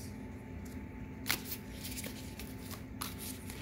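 A deck of tarot cards being shuffled by hand during a card reading, a steady papery riffling with a few sharper snaps, close and fairly quiet with no talking.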